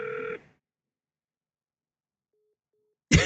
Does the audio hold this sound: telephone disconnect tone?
yes